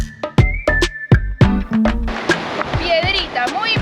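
Boots splashing through a shallow mountain stream in northern Argentina, a series of sharp close splashes and sloshes at an uneven walking rhythm, followed by running water, with voices over the top.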